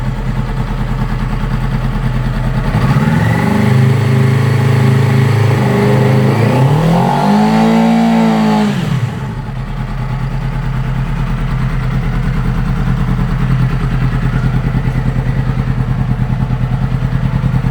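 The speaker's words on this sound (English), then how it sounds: "Here's a video of it revving." Idling 2009 Yamaha R6 engine revved up close: the pitch climbs and holds for several seconds, rises again to a peak, then drops sharply back to a steady idle.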